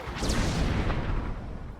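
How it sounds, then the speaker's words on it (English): A shoulder-launched missile blast in Star Wars: The Old Republic, a loud, sustained rumbling explosion filling the whole moment with dense low roar and debris noise, fading slightly toward the end. "Shoulder launcher from somewhere in the village!"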